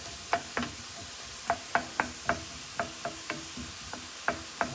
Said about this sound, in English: just going to saute this up like so